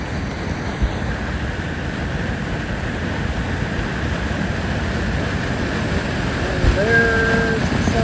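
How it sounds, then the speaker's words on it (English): Water roars over the spillway at Rugg Pond in Kalkaska, Michigan, a loud, unbroken wash of rushing noise that holds steady throughout. "Not sure how well you can hear me through the roar of the water"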